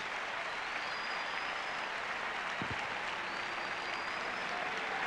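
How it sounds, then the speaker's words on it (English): Distant, soft applause from the tennis crowd at the 1989 US Open, a steady even wash of clapping heard alone, with no talk over it. "A great round of applause from the crowd here today."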